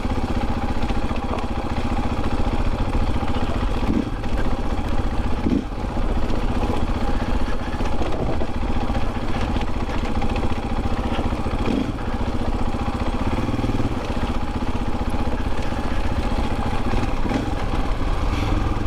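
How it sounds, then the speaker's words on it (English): A Husqvarna FE501s motorcycle engine runs steadily at close range under engine braking, its low rumble dipping and rising slightly as the revs change, with no voices. "now I got engine braking."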